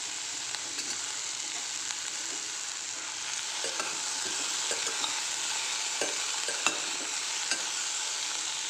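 Potato, broad beans, okra and eggplant sautéing in a pan, with a steady close sizzle broken by repeated scraping stirs of a spoon through the vegetables; no voices.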